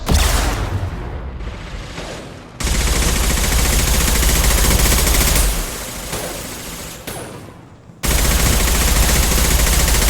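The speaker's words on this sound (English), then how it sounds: "Firing an impact shot!" Sustained heavy gunfire and combat noise from the video game Mass Effect 2, loud and dense, with a brief drop near the start and a lull before a loud burst resumes.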